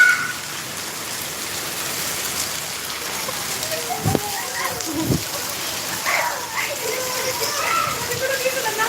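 Heavy rain with wind, including hail, falls outdoors as a constant dense hiss over surfaces, with a couple of sharp knocks and faint background voices.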